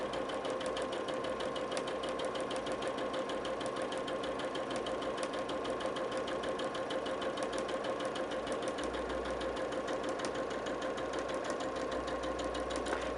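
A domestic sewing machine set to a medium stitch length runs steadily, stitching the drawn lines of a quilt's half-square-triangle block in a continuous, even mechanical whir with a rapid needle rhythm, close and alone.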